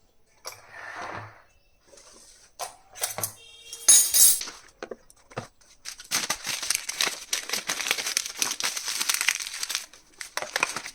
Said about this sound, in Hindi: ये चम्मच को इस ढंग से एल्युमिनियम फॉइल में लपेट के रखेंगे तो अच्छी रहती है।